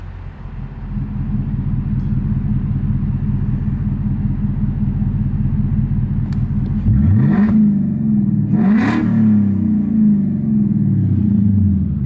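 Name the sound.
Mustang V8 engine revving, exhaust cutouts open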